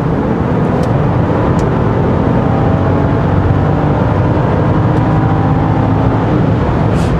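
A Land Rover Discovery P360 engine roars steadily under hard acceleration from about 2500 rpm, a loud continuous drone heard from inside the cabin without any talking.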